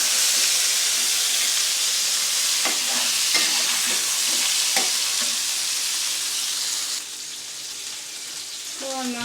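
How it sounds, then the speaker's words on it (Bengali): Meat fries in a pan with a strong, continuous close sizzle and hiss, broken by a few clinking stirs of a utensil, with the sizzle easing slightly near the end. "আমি মাংসটা এখন বসেছি, এখানে মাংসটা বেজে নিচ্ছি আগে"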